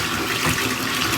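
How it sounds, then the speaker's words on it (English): Hot water gushes and splashes into a container of sweat-stained hats, a brief, loud, continuous pour heard up close. "Pour it in with the hot water dropping in."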